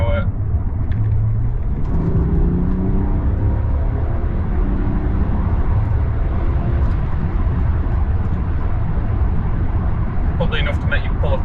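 Remapped BMW 530D with N57N diesel, big turbo and intercooler, accelerating hard in third gear with wheelspin, a loud steady engine roar with rising harmonics under constant road noise, with a voice speaking over it.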